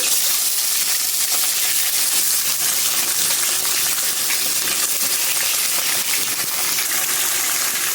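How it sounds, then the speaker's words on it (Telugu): Chicken pieces hit well-heated oil for a curry, giving a steady, loud, bright hiss and sizzle of frying that runs evenly throughout, with no talking. "నూనె అనేది మనకు బాగా వేడెక్కిన తర్వాత చికెన్ అనేది వేస్తున్నానండి"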